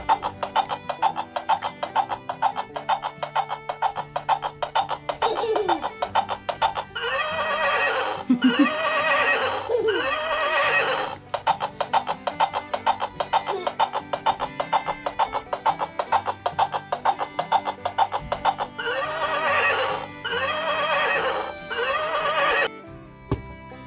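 A horse neighs and whinnies repeatedly in loud, close bursts over a steady rhythmic background clatter.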